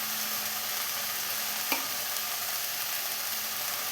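Green beans thoran, a Kerala-style payar dish, stirred in a pan after salt is added, giving a steady soft sizzle with one brief scrape of the spoon near the middle and no talking.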